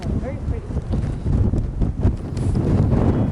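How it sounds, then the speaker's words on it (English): Strong wind buffets the microphone in gusty low rumbles on a high clifftop over 600 meters up on Ireland's Wild Atlantic Way, loud and continuous with no voices. "Yep, still windy."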